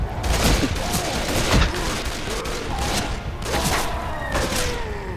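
Gunfire in the video game Left 4 Dead 2 rattles in dense, overlapping bursts, a loud fusillade with thumps and booms mixed into the near, continuous volley.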